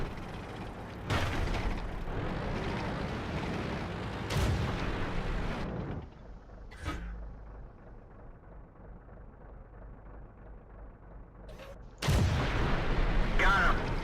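Tank cannon shots in World of Tanks, version 8.0 beta, ring out as loud broadband booms with rumbling tails, one near 1 second, another around 4.5 seconds and a third near 12 seconds, between stretches of quieter engine and mechanical noise.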